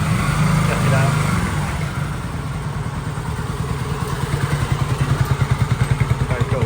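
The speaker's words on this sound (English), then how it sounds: "He's rolled up on a super nice Honda." A Honda motorcycle pulls up, its engine loud and close, settling into a steady pulsing idle with a rhythmic throb that grows more pronounced toward the end.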